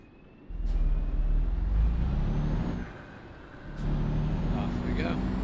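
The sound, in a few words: truck uncoupling its trailer, with reversing beeps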